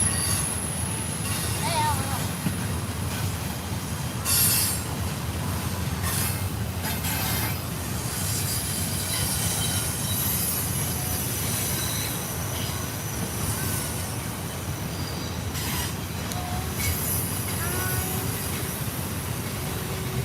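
An intermodal freight train hauling domestic double-stack containers rolls past at Horseshoe Curve, a steady close rumble of wheels and cars with occasional high wheel squeal throughout, some faint talk in the background.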